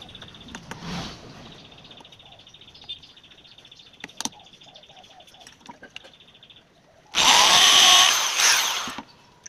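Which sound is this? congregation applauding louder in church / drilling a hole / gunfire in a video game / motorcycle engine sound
drilling a hole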